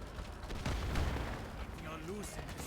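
The main gun of a KV1 tank firing in the War Alert strategy game: one muffled, low boom that rolls off, quiet and heard under a commentator's voice.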